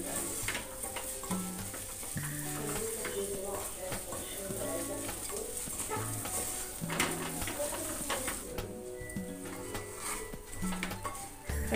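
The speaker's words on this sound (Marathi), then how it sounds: "तांदूळ देखील आपल्याला 1 साधारण 3 ते 4 मिनिटं यामध्ये परतून घ्यायचा आहे" Rice sautéing in a pan for a Kolhapuri dish, a soft continuous sizzle with stirring scrapes, while a person talks over it and a bird calls faintly in the background.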